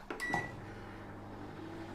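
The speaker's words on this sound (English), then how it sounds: "we're going to put our butter in the microwave" Microwave oven softening butter: a faint low running hum with a small click or beep near the start and another at the end, heard alone and quiet.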